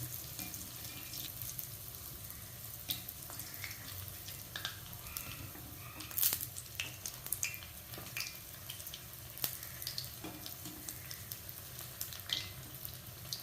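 Wheat flour and idli batter bondas deep frying in oil over a medium flame, a steady low bubbling sizzle with scattered faint pops, heard alone and close.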